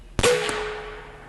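A single sharp shot from an Umarex AirSaber Elite X2 arrow-firing air rifle, a close crack with a quick second impact and a faint ringing tail fading over about a second.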